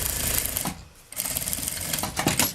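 A sewing machine backstitching near the bias binding of a summer bag, giving a loud, close mechanical rattle that breaks briefly before running on again.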